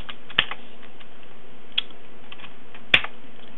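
Typing on a computer keyboard while entering partitioning commands during a Slackware install: soft, quiet key taps scattered over several seconds, with three sharper, louder keystrokes standing out, close and without speech.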